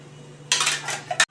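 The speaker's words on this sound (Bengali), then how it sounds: "আমি একটু সরিয়ে দিলাম ঢাকাটা দিয়ে" A metal lid is lifted off a pot of rohu fish curry on a gas stove, giving a sudden clattering scrape with a faint clink at the end. A low steady hum sits underneath throughout.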